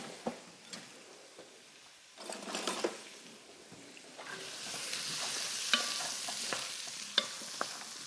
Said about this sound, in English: So give that a really good mix, get everything going.